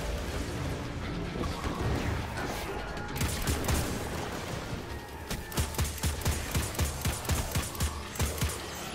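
Rapid gunfire from the video game Destiny 2 crackles amid a busy mix of effects, giving way to a regular series of sharp, evenly spaced shots toward the end.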